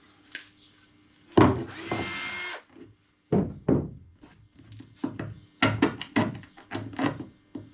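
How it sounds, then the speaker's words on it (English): Power drill boring holes one at a time into the wooden hull of a homemade boat, with short bursts of drilling and sharp knocks and thunks between them, loud and close with no talk. "I'm drilling this one at a time."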